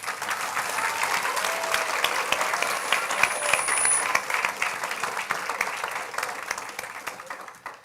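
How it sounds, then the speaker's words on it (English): Audience applause for the competing teams at the closing of a student innovation event, a steady, dense wash of many hands clapping that carries on through the whole stretch and tapers slightly at the end. "So a round of applause for all the teams."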